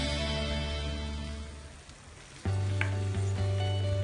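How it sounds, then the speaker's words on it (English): Spaghetti goes into a pan of sizzling arrabbiata sauce made with tomato puree. A steady frying hiss fades, then jumps back loud and bright as the pasta hits, with a few sharp stirring clicks. "And now we're going to add a spaghetti."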